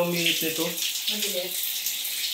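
Water sprays from a shower fed by a Stiebel Eltron instant water heater, a steady close hiss running alone with a brief low hum early on.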